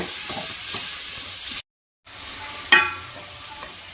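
Carrot curry being stirred in a pan: a steady frying sizzle and scraping with a short silent gap, then a sharp clink of the spoon against the pan as stirring resumes.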